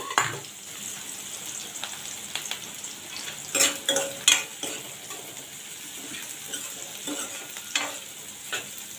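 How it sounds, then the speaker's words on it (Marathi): Onion sizzles steadily in a hot pan while a spoon stirs and scrapes against the metal in scattered, close clinks and taps. "आता हे चांगलं परतून घेते कांदा जरा कांदा जरा ब्राऊन झाला"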